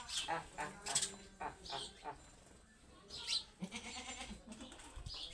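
A goat bleats near its young kid outdoors on a farm, several short cries scattered through the clip, close and clear, while someone talks around them and birds chirp faintly.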